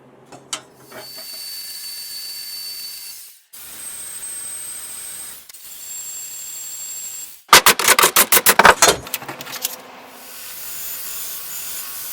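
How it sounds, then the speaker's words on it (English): Hand-working a wooden part for a spants holder: long passes of rubbing, rasping strokes with short pauses between, then a burst of fast, loud back-and-forth scraping near the end, close and without speech. "I like to cut it a little bit long and then sand to the line."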